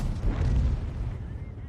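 A tank destroyer's cannon fires in World of Tanks, giving one heavy, deep boom with a rumbling tail that fades over the next second or so, loud and close.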